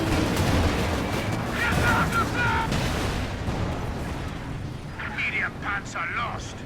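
Bombs and artillery explosions in Company of Heroes 2 rumble and crack in a dense, continuous barrage during a 2v2 match. A commentator talks over the blasts.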